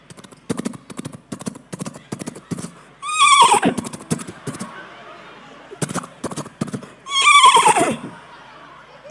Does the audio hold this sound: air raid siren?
no